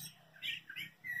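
A few short, thin bird chirps sound faintly in quiet dawn surroundings on a ranch, brief high tweets spaced a moment apart.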